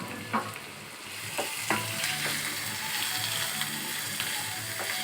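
Chopped onions and vegetables sizzle steadily in a hot pan for a veg sandwich filling, with scattered scraping clicks of a spatula stirring them, close and alone without voices.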